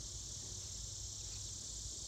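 A chorus of southern Magicicada cicadas drones in a continuous, even, high-pitched buzz on a summer day, soft and slightly distant, with no talking.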